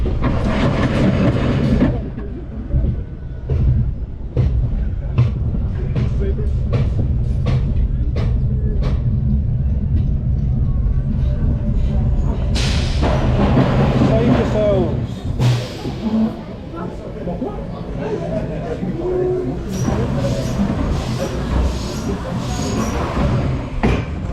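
An old Vekoma roller coaster train rumbles, rattles and clatters along steadily, with sharp knocks and jolts, while riders talk and shout over the noise.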